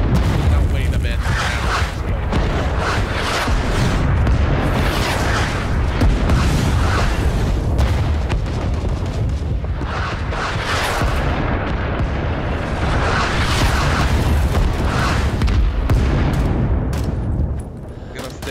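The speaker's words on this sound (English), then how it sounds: "we got killed by the enemy artillery barrage" Enemy artillery barrage in Rising Storm 2: Vietnam: continuous heavy booms and rumbling explosions overlapping one another, loud and dense for the whole stretch, with gunfire mixed in and a voice talking in the middle.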